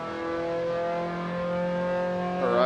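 An Austin Healey Sprite races around Bathurst in Assetto Corsa, its engine holding a steady, buzzy harmonic drone. The pitch wavers and climbs briefly near the end.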